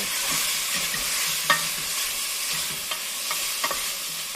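Bacon rendering in a pot, stirred with a spoon: a soft continuous sizzle with occasional sharp scrapes and clicks of the spoon, close up and fairly quiet.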